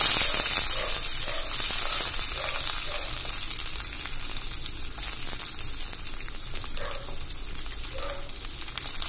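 Garlic fries in hot oil in a pan while mint chutney is being made, giving a continuous hissing sizzle that is loud at first and eases slightly, with occasional soft stirring and no voices.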